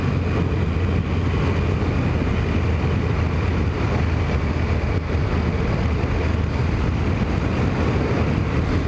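Kawasaki ZX10 sports motorcycle ridden at a modest pace on tight roads, its engine a steady close drone mixed with wind rush throughout, no speech.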